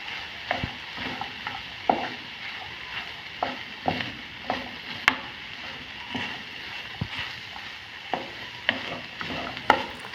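Green peas egg fry being stirred in a pan after a sprinkle of pepper powder, a soft continuous sizzle broken by regular spatula scrapes and taps every second or so, close and clear.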